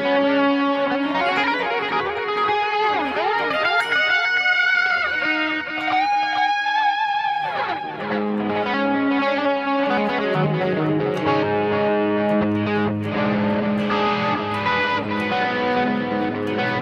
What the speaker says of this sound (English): now I am using a compressor pedal